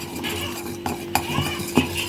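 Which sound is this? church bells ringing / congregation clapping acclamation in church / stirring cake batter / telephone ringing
stirring cake batter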